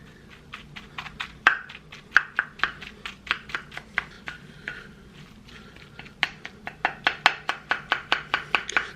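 Canned salmon being broken up in a bowl, heard as a steady run of close, sharp taps and scrapes spaced about every half second, with no talking.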